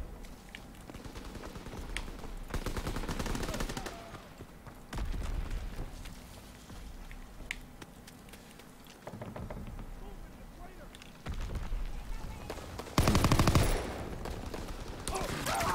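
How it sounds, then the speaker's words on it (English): Bursts of gunfire in Call of Duty WWII, rapid automatic fire coming in several loud runs separated by quieter gaps, with a louder blast near the end. "Not a chance in hell I'm winning that gunfight."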